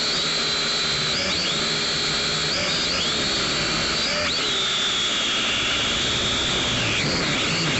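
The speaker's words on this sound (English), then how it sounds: "This quadcopter in the air with just a little bit of wind, I think less than 5 miles per hour, it's gonna handle pretty well" A Syma X5C quadcopter drone hovers and flies in light wind, its rotors producing a continuous loud high whine that bends up and down in pitch as the motors adjust.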